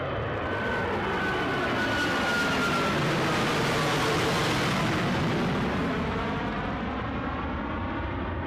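An easyJet passenger jet at Newcastle airport gives off a loud, continuous roaring engine noise with a slowly sweeping tone, steady throughout and with no voices.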